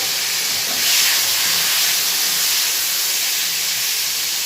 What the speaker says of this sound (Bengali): বেগুনটাকে ভেজে নেব তো বেগুনটা দিয়ে দিলাম তেলে